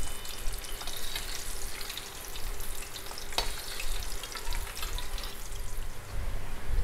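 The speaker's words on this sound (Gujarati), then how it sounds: "આ રીતે ફેરવતા જઈશું અને મીડિયમ ફ્લેમ પર તળાવા દઈશું ક્રિસ્પી થાય ત્યાં સુધી" Continuous crackling sizzle of methi namkeen sticks frying in hot oil over a medium flame, steady and close, with faint scraping of a utensil turning the pieces.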